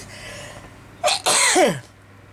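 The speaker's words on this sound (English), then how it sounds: "I'm going to sneeze now" A single loud sneeze with a sharp intake burst followed by a long breathy expulsion, close to the listener, then quiet.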